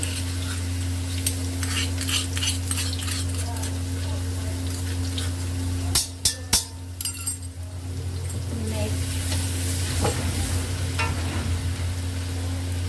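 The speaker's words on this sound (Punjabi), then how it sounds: "ਤੇਲ ਗਰਮ ਹੋ ਚੁੱਕਿਆ ਤੇ ਆਪਾਂ ਇਹਦੇ ਵਿੱਚ ਪਾਤਾ ਜੀਰਾ ਤੇ ਫਲੇਮ ਆਪਾਂ ਤੇਜ਼ ਕਰ ਦਿੰਨੇ ਆ ਤੇ ਉਸ ਤੋਂ ਬਾਅਦ ਇਹਦੇ ਵਿੱਚ ਆਪਾਂ ਪਾ ਦਿੰਨੇ ਆ ਜੀ ਲਸਣ ਦਾ ਪੇਸਟ" Cumin and garlic paste frying in hot oil over a high flame, a steady loud sizzle with a low hum, a few sharp clanks of a utensil midway and then a rising crackle, while a voice talks faintly.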